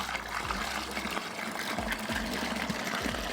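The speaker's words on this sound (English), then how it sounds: "Now we need to top it up with cold water all the way to the 23 litre mark on the side of the fermenter" Cold water poured from a jug into a plastic fermenter bucket while brewing a beer kit, a continuous close splashing gush with a rising fill tone, heard alone.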